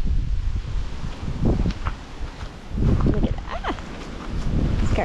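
Gusty wind blows outdoors in Oklahoma under darkening skies ahead of a tornado watch, rustling tree leaves and buffeting the microphone in loud, surging waves.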